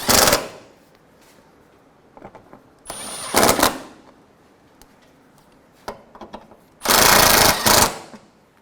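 Radiator bolts on a 2012-2016 Subaru Impreza being tightened with a power impact tool, three loud close bursts of rapid rattling separated by quieter gaps with small clicks.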